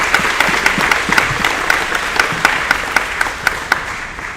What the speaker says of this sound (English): maybe you can clap because those were pretty amazing words.